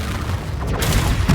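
A booming Confringo spell blast in the Hogwarts Legacy video game, with a dense, loud explosive rumble that swells late and ends in a sharp burst.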